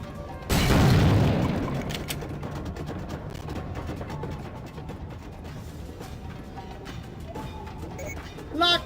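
An explosion in the PC shooter Soldier of Fortune blows up enemies with one loud, close boom that fades into a long rumbling tail, followed by quieter game sounds and a short sharp noise at the end.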